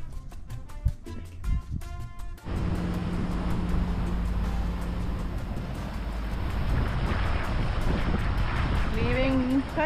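A sailboat motoring under engine while leaving Paxoi, Greece, in the Ionian Sea: after a brief opening, a steady low engine drone and wind rush run continuously, close and fairly loud, with a voice heard early and near the end.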